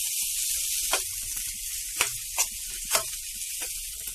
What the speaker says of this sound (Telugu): ఈ బ్రెడ్ ని లైట్ గా మనం వేయించుకోవాలండి.